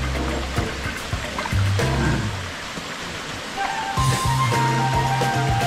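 Water rushing over a waterfall on a cliffside coast in Catanduanes, a broad steady roar with clatter and shifting noise over it, and people talking nearby.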